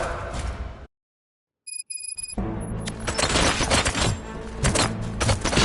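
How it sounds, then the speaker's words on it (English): Gunfire rattles in the video game Robocop: Rogue City on PS5. A burst of noise cuts to silence, a few electronic beeps follow, then dense loud volleys of shots and booms run on continuously. "Gunshots? What's going on?"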